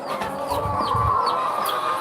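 Chickens cluck in a pen holding roosters and hens, with several close calls and higher chirps running over a steady background hum.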